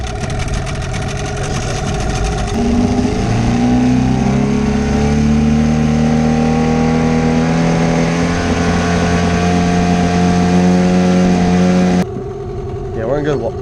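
A fishing boat's outboard engine runs steadily and loud throughout, its pitch rising and settling with throttle changes, then cuts off near the end.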